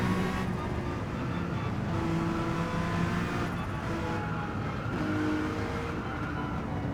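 Race car engines roar continuously on the final lap of a racing video game featuring a Honda NSX, with a steady, loud drone and shifting engine pitch as cars hold speed.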